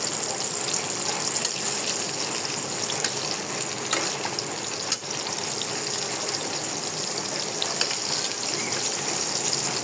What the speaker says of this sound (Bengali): দেখেন অনেক জোরে বৃষ্টি আসছে আস্তে আস্তে।